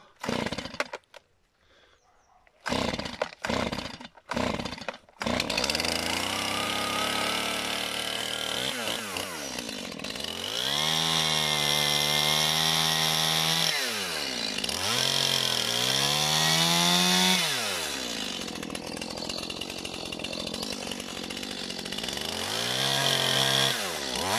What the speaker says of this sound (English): If I can start the saw.